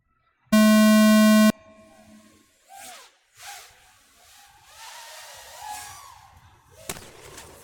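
A loud steady electronic start tone sounds for about a second at a drone quad race, followed by the rising whine of racing quadcopters taking off and buzzing away at varying distances.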